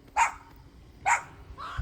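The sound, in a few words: village dogs barking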